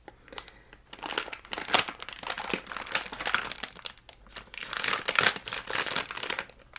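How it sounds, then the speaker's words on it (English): Plastic packaging crinkles and rustles up close in irregular bursts, crackling loudly at moments and quieting briefly between handlings. "if you don't like the crinkle, you can just skip like 10-20 seconds"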